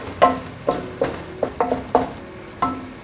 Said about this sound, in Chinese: 酱油2汤匙，先稍微拌炒一下